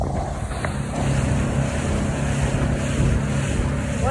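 Steady motorboat engine rumble on open water near Narayanghat, mixed with wind noise and washing water, fairly even in loudness throughout with no talk.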